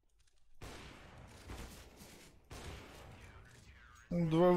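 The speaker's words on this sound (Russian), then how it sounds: "Два выстрела." Two gunshots in a video game: two separate sharp bursts of firing spaced about two seconds apart, each with a noisy tail, followed by a louder tonal game sound at the end.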